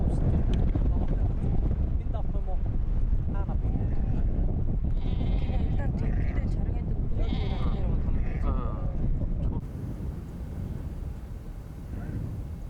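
Goats bleating at a Mongolian nomad camp, several wavering calls from nearby animals over steady outdoor noise and a continuous low rumble, with people talking throughout.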